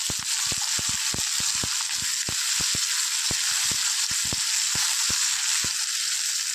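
Garlic and shallots sauté in a hot pan with salt, giving a steady close sizzle with sharp spoon or spatula clicks scattered irregularly throughout.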